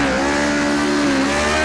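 A Lotus 49 race car engine in Project Cars 2 holds a steady, loud, high-pitched howl through a left-hand corner at full throttle, its harmonic tones wavering slightly as the revs shift, with no talking over it.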